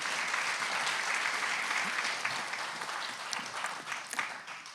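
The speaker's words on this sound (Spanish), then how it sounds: "Den un aplauso al Señor" A church congregation claps together for the Lord during a Spanish-language service, producing dense, sustained applause that holds steady and then slowly thins out, fairly distant.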